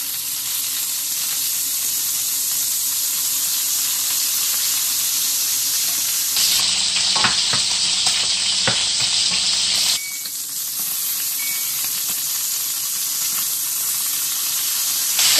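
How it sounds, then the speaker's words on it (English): Pork ribs browning in oil in a pan give a steady, close sizzle that runs throughout, with a brief stirring scrape and clatter partway through and no talk. "Let's brown the rest of our pork ribs."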